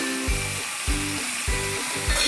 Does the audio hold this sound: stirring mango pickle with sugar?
yes